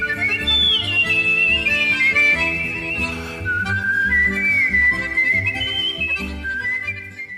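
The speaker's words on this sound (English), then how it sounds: "the first championship in Ireland on the wolf whistle" A contestant at a wolf-whistle championship in Ireland whistles loud, sliding high tones in long rising and falling sweeps, heard up front over steady background music.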